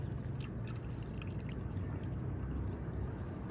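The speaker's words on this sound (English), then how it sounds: "Now, I'll pour the water to the brim." Water poured into a small experiment apparatus outdoors at the Equator in Mogotio, Kenya, a soft continuous trickling pour with light drips and gurgles, fairly close but quiet.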